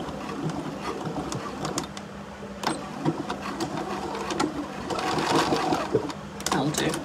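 A domestic sewing machine runs in short bursts, putting a couple of stitches into a fabric Christmas tree pouch, with a mechanical whirr and clatter close by. The pauses between bursts are quiet.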